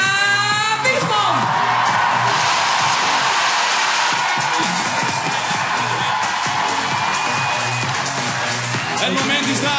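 A large celebrating crowd at the homecoming of the Dutch women's football team cheers, whoops and applauds for coach Sarina Wiegman, loud and sustained, with an amplified voice over it at the start.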